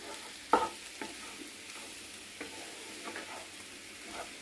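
A spoon stirs aloo carrot curry with fried potatoes in a pan, giving a few soft scrapes and clinks over a quiet, steady sizzle, with no talking.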